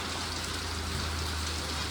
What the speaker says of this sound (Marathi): पाऊस एकदम जोरात पडतो